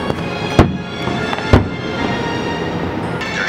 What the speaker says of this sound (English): Wow, these fireworks are lit!